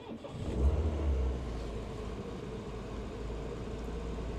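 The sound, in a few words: Triumph 1500 car engine starting up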